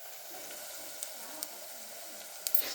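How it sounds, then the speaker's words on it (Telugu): Onions frying in oil, a soft steady sizzle close by with a few brief crackles and pops. "ఉల్లిగడ్డ మంచిగా వేపుకోవాలి నూనె వేసుకొని"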